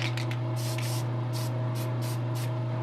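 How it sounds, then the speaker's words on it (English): Testors Dull Coat sprayed from a can onto a painted custom Firestar statue, heard as a series of short, close aerosol bursts of hiss over a steady low electrical hum. "what I normally do with these paints, hit it with Tester's Dull Coat."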